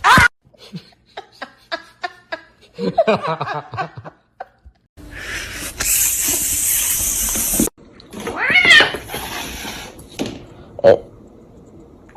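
A domestic cat meowing, yowling and hissing in a series of sharp, close bursts separated by pauses, with a stretch of loud hissing noise in the middle and stray laughter-like sounds around it.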